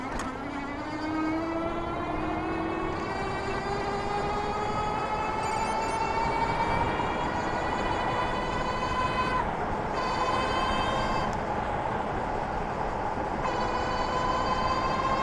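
Hub motors on a C3STROM Astro Pro e-bike whine steadily while riding, a rising electric tone holding above constant road and wind rumble across the whole ride.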